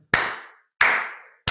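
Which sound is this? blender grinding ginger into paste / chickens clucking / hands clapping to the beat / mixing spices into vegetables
hands clapping to the beat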